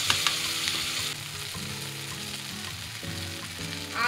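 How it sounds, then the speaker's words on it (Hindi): Food sizzles and fries steadily in a pan over a high gas flame while making a handi pizza at home, a continuous loud hiss with occasional stirring scrapes and a low hum underneath. "ये मेरा ऑलमोस्ट फ्राई हो चुका है और गैस जो है हाई फ्लेम में ही रखना है।"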